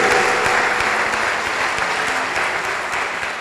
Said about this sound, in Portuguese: Pode aplaudir com alegria e com força se você crê.